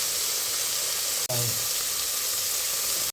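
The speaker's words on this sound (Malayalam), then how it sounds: "ചെറിയ ഉള്ളി ഉണക്കമുളക് കറിവേപ്പില വെളിച്ചെണ്ണയിൽ ഉപ്പിട്ട് വഴറ്റി കൊടുക്കാം" Shallots, dried red chilies and curry leaves with salt sauté in hot coconut oil, a steady bright sizzle throughout, broken by a brief clink of a utensil partway through and a short gap near the end.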